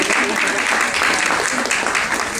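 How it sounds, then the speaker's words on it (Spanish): An audience at a Peruvian women writers' panel bursts into brief, steady applause, with dense clapping filling the whole moment. "Aplausos para Yolanda."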